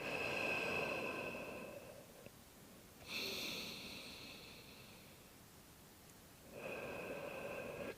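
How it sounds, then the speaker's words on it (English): Slow, deep breaths during a yoga child's pose, soft airy inhales and exhales in long swells, close and quiet, with no talking. "Big deep breath into the back."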